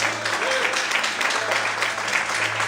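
Church congregation applauding, a dense steady wash of many hands clapping at a constant level, with faint voices mixed in under it.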